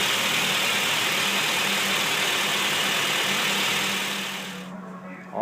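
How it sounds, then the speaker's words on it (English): Radiator cooling fan on a Honda Civic Del Sol running steadily, a loud, close, continuous broadband whoosh with a faint low hum beneath, fading down near the end. "as you can see, the cooling fan is now working"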